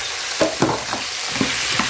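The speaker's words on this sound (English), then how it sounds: "Give it a quick stir." Chicken masala with garlic, salt, curry powder and chili flakes frying in a pan, stirred with several short scraping strokes over a steady close sizzle.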